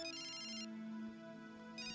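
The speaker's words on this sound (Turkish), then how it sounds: "Açmayacak mısın telefonu?" A mobile phone plays its electronic ringtone, a steady melodic tone that rings on clearly and alone, with no one speaking.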